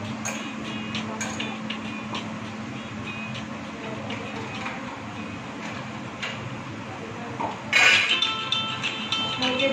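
Chicken mixed with a blended paste of cumin, ginger, garlic and onion is stirred in a pot over medium flame, with soft scraping and a few sharp utensil clinks, one louder clatter near the end.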